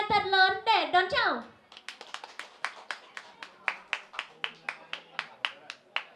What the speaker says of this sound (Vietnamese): một tràng vỗ tay thật lớn để đón chào